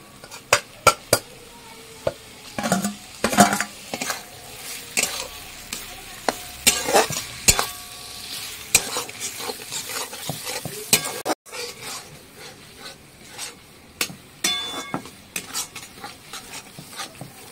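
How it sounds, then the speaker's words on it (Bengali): Tangra fish frying in oily spice masala, with repeated loud clanks and scrapes of a spatula against the pan over a low, continuous sizzle, the stirring coming in uneven bursts. "এবার আমি এর ভেতরে মাছগুলো ছেড়ে দেবো।"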